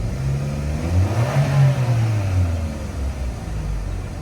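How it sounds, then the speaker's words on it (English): A 2015 Chevy Cruze engine, idling after a throttle body repair, gets a short rev: pitch rises smoothly to a peak and then falls back to a steady idle, close and clear, with no talking. "Let's give it a small rev and see what happens."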